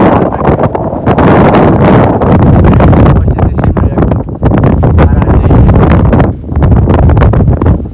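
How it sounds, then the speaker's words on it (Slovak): Strong wind gusts of around 50 km/h roar over a garden and a house roof where insulation is being laid, loud and buffeting with rumbling surges close to the microphone. "vietor to úplne že fúka po celej záhrade"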